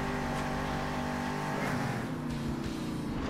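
Monster trucks race and collide in Monster Jam Steel Titans 2, a steady loud engine roar with shifting revs and occasional thuds from impacts, continuous throughout with no voices.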